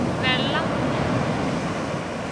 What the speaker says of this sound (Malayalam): വെള്ളം കയറി കയറി വരുക കേട്ടോ. വേവ്സ് കയറി കയറി വരുക.